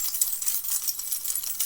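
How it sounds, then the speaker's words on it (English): A bunch of keys jangles continuously, with bright metallic clinks and rattles at close range and no voices. "Why do I keep all of these keys?"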